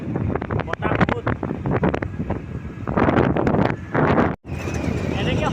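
Strong wind buffets the microphone outdoors near Dipor Bil, a loud continuous rush with gusty surges and a brief cutout, with faint speech underneath.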